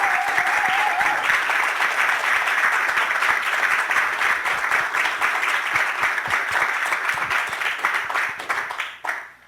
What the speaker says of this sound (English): let's just give all of our contestants a round of applause